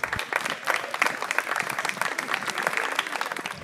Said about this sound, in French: Je vous propose de les applaudir bien fort.